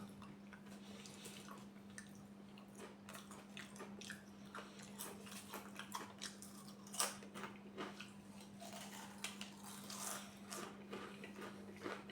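Ridged mushroom-flavoured Crunchips X-Cut potato chips being eaten up close, with a run of sharp, crisp crunches and bites repeating irregularly over a steady low hum, no talking.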